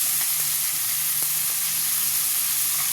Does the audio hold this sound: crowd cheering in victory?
no